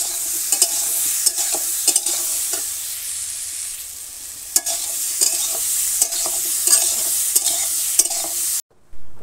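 Ol greens and chopped chalta are sautéed slowly in oil in a village kitchen under a steady close sizzle, while a spatula scrapes the pan in regular, sharp strokes that carry on through the clip and then break off.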